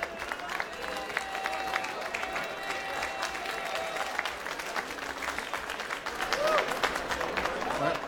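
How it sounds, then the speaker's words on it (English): Steady crowd applause at a cocktail championship super final for a competitor, dense and continuous for several seconds, with voices and cheering mixed in and some tonal background sound. "I think it's time to clap."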